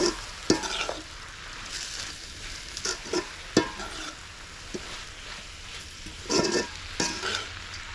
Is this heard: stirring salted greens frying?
yes